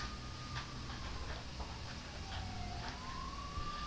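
Police car sirens wail in Persona 5 Royal, a faint wavering siren tone rising and falling under a soft background hum and light ticking, with no speech.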